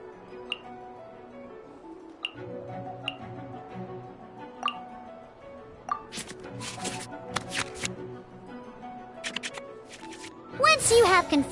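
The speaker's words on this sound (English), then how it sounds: "we can select any number of cards in our hand to shuffle back into the draw pile" Cards shuffled back into the draw pile in the Genshin Impact card game, heard as soft, quick card shuffle and tick sounds scattered over steady game music, with a busier burst of effects near the end.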